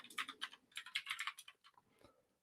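Computer keyboard typed on in quick clustered bursts of crisp key clicks, close and clear, slowing to a few scattered taps before stopping.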